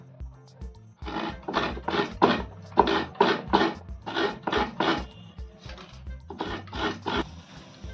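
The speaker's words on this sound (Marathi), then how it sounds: "तर खोबरं किसून घेते थोडं खोबरं हवं त्याला" Fresh coconut grated by hand for a bhindi (okra) dish gives a rhythmic run of close, raspy scraping strokes in quick groups, with a short gap partway through and no voices.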